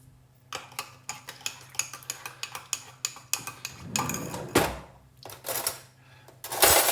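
Gravy granules are spooned from a tub in a kitchen, giving a run of rhythmic light metallic clinks and taps, then louder scraping and rattling bursts of granules near the end.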